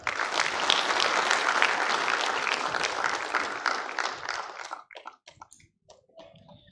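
Audience applause at a university vice-chancellors' meeting, a dense round of clapping that holds steady for several seconds, then breaks off into a few scattered claps and small room noises.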